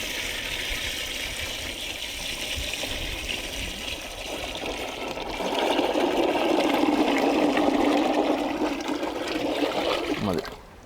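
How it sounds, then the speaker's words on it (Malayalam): Water pours steadily into a cooking pot over an outdoor village fire, where quail eggs are being boiled; the gushing grows fuller partway through and then stops abruptly at the end. "നമുക്ക് കുറച്ച് വെള്ളം ഒഴിക്കാം."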